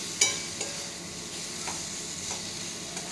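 Spices and tomato fry with a steady sizzle in a pan, with a couple of brief clinks of stirring near the start; no voices.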